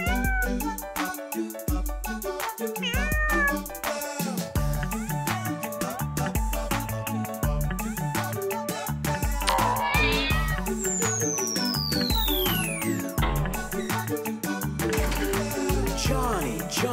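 Stray cats meow again and again over a bouncy children's nursery song with a steady beat. The meows come clear and frequent across the whole stretch.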